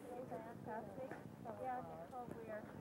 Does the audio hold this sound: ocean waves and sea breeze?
no